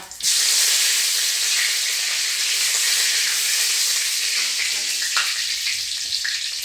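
Green chillies and curry leaves dropped into hot oil give a loud, steady sizzle. The crackling hiss starts abruptly and holds continuously, with small pops throughout.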